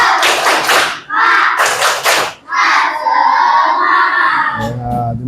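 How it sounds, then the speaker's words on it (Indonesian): A classroom of students performs the 'tepuk semangat' clapping chant, loud close bursts of rhythmic hand claps and thumps in short groups separated by brief pauses, with children's voices chanting along near the end. "Yuk, kita tepuk semangat terlebih dahulu."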